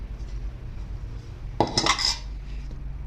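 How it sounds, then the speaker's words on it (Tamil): A short clatter of a metal spoon against a bowl as red rice flour is tipped in for Aadi koozh, one brief scraping burst amid quiet room noise. "இப்போ எடுத்து வச்சுக்க சிவப்பரிசி மாவை வந்து இந்த ஒரு பவுலில் சேர்த்துடலாம்"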